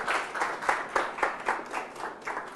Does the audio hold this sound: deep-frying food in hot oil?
no